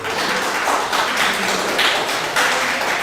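Pub crowd applauding in a sports bar, a sustained close wash of many hands clapping with slight surges in intensity, no voices standing out.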